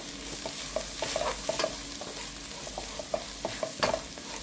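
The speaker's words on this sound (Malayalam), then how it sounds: "ഇതെല്ലാം കൂടെ നമുക്കൊന്ന് ഇളക്കാം." A spoon repeatedly knocks and scrapes through mutton curry masala with pepper powder in a pan, quiet rhythmic taps over a low sizzle, no voices.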